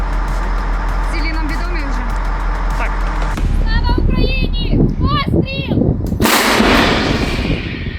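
Deep booming blasts from a large artillery gun firing nearby, mixed with shouting voices and vehicle rumble, followed by a sharp hissing burst.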